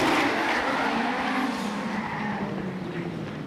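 A drift car in a D1NZ Pro-Sport round at Baypark Stadium slides along the concrete wall, a loud continuous roar of engine and tyre squeal that fades slightly toward the end.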